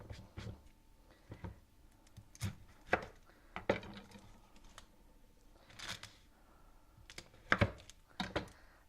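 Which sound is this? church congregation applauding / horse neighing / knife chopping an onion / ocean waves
knife chopping an onion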